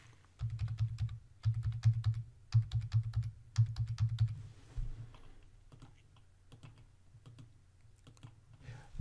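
Card details typed on a computer keyboard: quick bursts of close, crisp keystrokes in several runs, then a few sparse, quieter taps and clicks.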